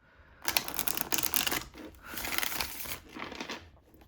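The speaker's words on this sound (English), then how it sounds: "One more shuffle." Tarot cards are shuffled by hand close up, in several quick papery bursts of riffling and flicking separated by short pauses.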